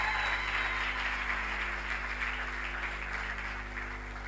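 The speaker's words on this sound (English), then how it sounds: "You can clap hands better than that" An audience claps hands at a revival talk show with Prophet Shepherd Bushiri, a dense, steady wash of applause that holds for several seconds and fades slightly toward the end.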